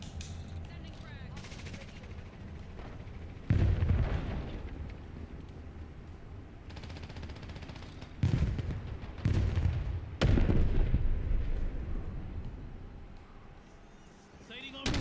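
A frag grenade explosion and gunfire in the video game Call of Duty Black Ops 7, with several heavy booming bursts and rattling shots over a steady game background, while voices talk.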